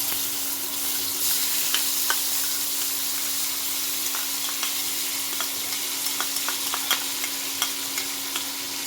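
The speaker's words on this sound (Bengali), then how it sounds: "তেলের মধ্যে কুচনো পেঁয়াজটা, দুটো বড় বড় মাপের কুচনো পেঁয়াজ দিয়ে দিচ্ছি।" Two large chopped onions frying in hot oil for an eggplant dish: a dense, even sizzle fills the whole stretch close up, broken by small scattered clicks and taps of stirring.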